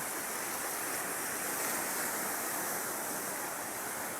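Rough, choppy seas in bad weather on the West Philippine Sea make a loud, unbroken wash of churning water with no voices.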